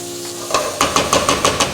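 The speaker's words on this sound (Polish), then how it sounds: "Dodaję cebulkę. Słuchajcie, naprawdę pachnie fantastycznie. To musi się teraz dobrze podsmażyć." Steady sizzle of onions frying with a few rhythmic clacks of a utensil against the pan, close and fairly loud.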